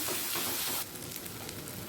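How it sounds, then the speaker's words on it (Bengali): Chopped ginger, garlic and onion fry in a pan, a loud sizzle that drops to a steadier, softer crackle partway through, with no voices over it. "আর আদা কুচিটা পেঁয়াজের সাথে আরও এক মিনিট ভেজে নেব"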